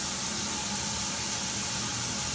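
Water pours steadily from a waterfall shower head in a home bathroom, a loud, constant broadband hiss that stays unchanged throughout.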